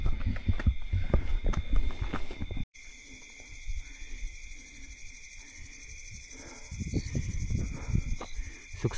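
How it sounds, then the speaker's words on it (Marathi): Crickets chirp at night in forest along the Harishchandragad trek, a continuous shrill trill that stays steady throughout while nearby rustling and movement come and go. "फक्त रातकिड्यांचा आवाज येतोय."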